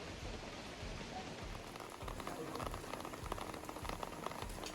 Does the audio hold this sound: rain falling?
yes